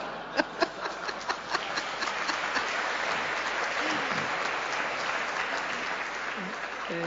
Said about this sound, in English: Interesting that you would applaud that.